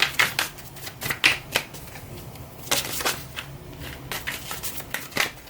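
Tarot cards shuffle close by in bursts of rapid riffling, flicking and slapping, pausing briefly between handfuls, with no voices.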